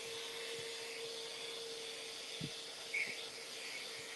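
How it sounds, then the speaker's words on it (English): A vacuum cleaner runs under the seats of a 1968 Ford LTD Country Squire station wagon, giving a steady high whine and airy roar with a few soft bumps and rattles as the nozzle moves. "why are we vacuuming under the seats?"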